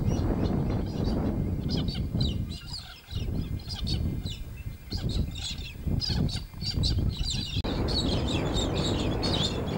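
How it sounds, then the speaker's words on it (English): A flock of galahs calling near old telegraph station ruins among desert white dunes, harsh screechy chattering cries overlapping constantly over a loud rushing background, close by. "And the birds you can hear are galahs."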